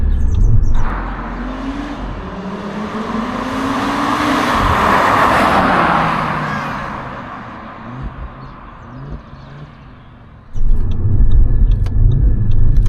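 A 2014 Audi RS Q3 compact SUV with a five-cylinder engine revs up and pulls past, its rising and falling engine note swelling loud then fading, followed by a deep rumble returning; faint bird chirps sit in the background.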